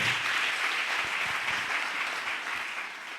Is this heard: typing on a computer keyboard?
no